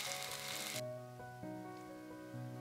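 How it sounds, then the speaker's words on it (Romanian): Oyster mushrooms frying in a pan, starting with a bright, loud sizzle that drops abruptly to a softer crackle, while faint tonal music holds underneath. "Prăjim ciupercile 7-8 minute până când se rumenesc bine pe toate părțile."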